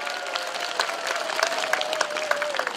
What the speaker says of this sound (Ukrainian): Оплески пані Розалії!